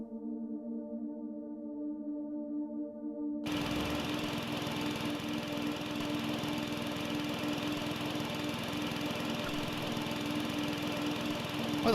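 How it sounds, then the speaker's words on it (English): In the Fingerbones video game, a lawnmower engine runs inside a wall. A low tonal hum first plays alone, then the steady buzzing drone of the engine cuts in abruptly and keeps going at an even level. "Why the fuck is there a lawnmower in the wall?"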